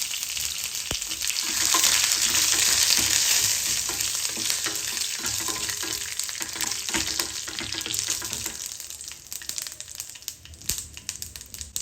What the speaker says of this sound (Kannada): ಇದು ಕೆಂಪಾಗ್ತಿದ್ದಂಗೆ ಒಂದು ಎಂಟರಿಂದ ಹತ್ತು ಕರ್ಬೇವಿನ ಸೊಪ್ಪು ಹಾಗೆ ಒಂದೇ ಒಂದು ಒಣಮೆಣಸಿನ್ಕಾಯಿ